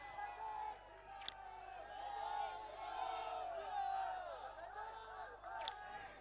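Crowd at a political party rally in Gujarat, welcoming a politician rejoining the BJP, cheering and whooping in a continuous roar, with two brief sharp bursts standing out above the steady crowd noise.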